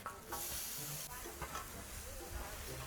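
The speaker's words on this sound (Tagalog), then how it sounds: "Gigisahin lang natin dito yung bawang para lumabas muna yung lasa ng bawang" Garlic sautéing in cooking oil in a pan, a steady soft sizzle and hiss running throughout with occasional stirring scrapes, close and moderately quiet, no talking.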